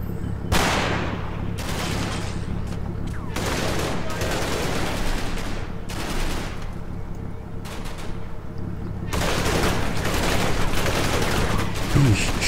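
Gunfire crackles in the World War II tactics game Combat Mission, set during the Market Garden campaign: repeated loud bursts of rifle and machine-gun fire, some long and rolling, over a steady low hum.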